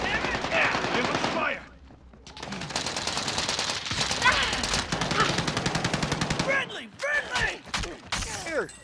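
Rapid automatic gunfire in Call of Duty: Modern Warfare, with sustained bursts of close, loud rattling shots, a brief pause, then more fire and scattered single shots toward the end.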